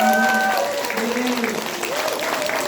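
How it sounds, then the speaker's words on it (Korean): An audience at a church seniors' lecture gives a big round of applause, steady close clapping throughout with a voice briefly sounding over it. "우리 다시 한번 힘내시라고 큰 박수 한번 주시겠습니다"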